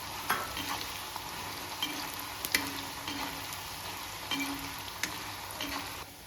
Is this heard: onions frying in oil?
yes